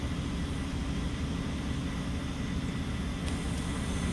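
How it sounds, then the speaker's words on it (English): Steady broadband roar of a Delta Airlines Airbus A321-211 jet airliner's engines near Jacksonville International Airport, a continuous rumble held at constant loudness throughout, with no voices. "Delta Airlines 2990, en route back to Atlanta. The Airbus A321-211SL blastoff machine."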